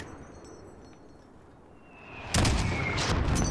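Mortar fire in the Call of Duty Modern Warfare campaign, a sudden loud blast that breaks in after a stretch of quiet ambience and keeps rumbling with harsh explosive crackle.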